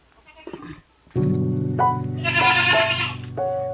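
Goats kept at a home bleat close by in a few loud, drawn-out calls, one after another, after brief quieter sounds.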